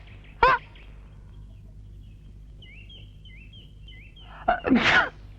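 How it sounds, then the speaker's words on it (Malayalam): A person in an old Malayalam comedy film lets out two loud, abrupt sneezes, one near the start and a longer one at the end, with faint chirping sounds in the quiet between them. "എന്തൊരു തുമ്മക്ക"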